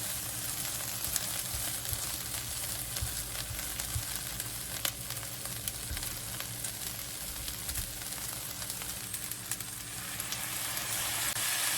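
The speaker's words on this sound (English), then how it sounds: "Add the frozen beans and stir fry for 1 to 2 minutes." Frozen beans stir-fried in a hot wok for shrimp fried rice, a constant dense sizzle with occasional faint scrapes and clinks of the spatula, close and steady throughout.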